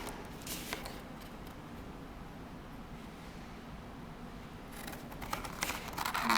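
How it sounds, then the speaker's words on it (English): Scissors cut through chipboard pieces for a cube sculpture, with short crisp snips and paper rustle near the start and a louder burst of cutting and handling toward the end, close by over a soft background hiss. "you'll notice I go right to the edge of the scissors, and you'll notice I pull up the chipboard as I cut."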